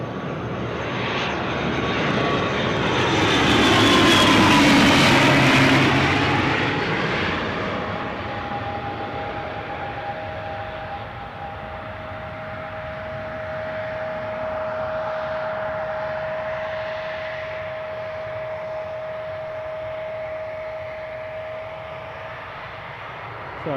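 ATR turboprop airliner at Newcastle airport, a loud swelling engine roar as it passes nearby, easing into a steady distant drone with a sustained propeller whine, no talking.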